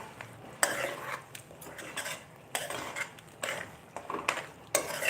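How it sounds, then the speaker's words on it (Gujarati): A metal spoon scrapes and stirs through a spiced mixture in a pan while preparing a puffed-rice (mamra) snack, with about six distinct stirring strokes at a steady rhythm, close and moderately loud, with no talking. "હવે આપણે બધું એક વખત હલાવી લેશું."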